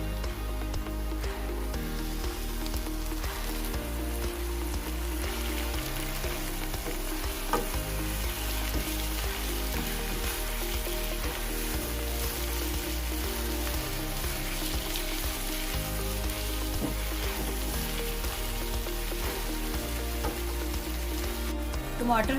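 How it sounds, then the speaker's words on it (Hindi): Tomatoes hit light-browned onions frying in a pan, giving a loud, continuous close sizzle with occasional stirring scrapes throughout. "अब हम इसमें टमाटर डालेंगे।"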